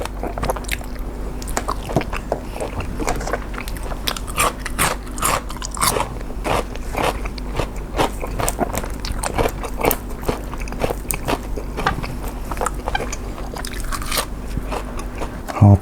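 Close, loud crunchy bites and wet chewing of spicy Thai grilled beef salad with fresh vegetables, repeating in a steady irregular rhythm with no talking.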